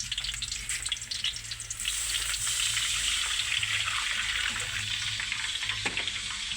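Water is poured into a cooking pot of sautéed onion and garlic. Light sizzling gives way after a couple of seconds to a steady, louder rushing gush, heard close with no voices.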